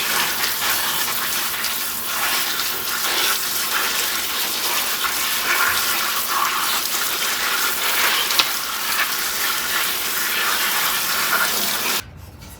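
Water runs steadily from a tap while fresh flowers are rinsed for fall front-door decorating, a constant loud splashing gush that stops abruptly near the end.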